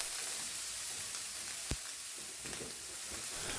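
Lardons sizzle steadily in a hot pan, a continuous broadband hiss with a sharp pop near the middle and faint crackles, no voices.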